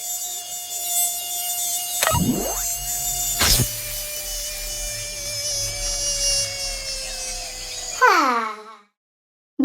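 A mosquito buzzes as a thin, continuous high whine that wavers in pitch, close and steady for several seconds, with a couple of sharp sweeping tones and a voice-like warble near the end before cutting to silence.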